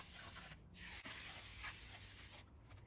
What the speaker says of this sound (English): Apply the cleaning foam spray to the inner side of the coil.